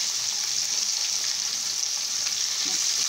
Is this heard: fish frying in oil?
yes